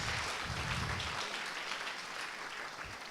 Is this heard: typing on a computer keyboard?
no